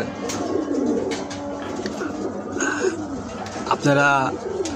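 A pigeon coos close by in soft repeated rolling calls, with someone speaking over and between the calls throughout.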